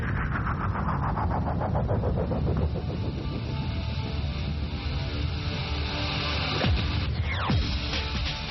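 A rocket carrying the Hot Bird 5 satellite ignites and lifts off, a steady, heavy roar rumbling continuously at a distance, broadband and unbroken, with no voices over it.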